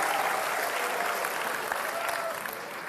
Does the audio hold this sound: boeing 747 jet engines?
no